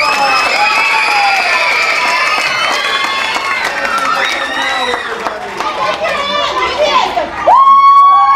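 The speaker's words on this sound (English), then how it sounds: "give the Magic Guy your biggest round of applause." A library magic show crowd applauds and cheers for the magician, loud clapping under a chorus of shrill children's screams and whoops that rises and falls, ending on a single sustained high voice.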